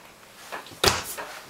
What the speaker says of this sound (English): Pots and pan drawer.